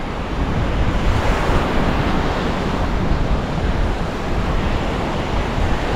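Surf rolls in continuously at Bac My An Beach in Da Nang, Vietnam, a loud, dense wash of breaking waves mixed with gusting wind buffeting the microphone, with no voices.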